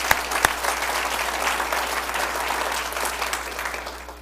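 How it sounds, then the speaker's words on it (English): A township presentation audience gives a round of applause, a few sharp early claps swelling into sustained, even clapping from a large room of people. "Let's give you a round of applause"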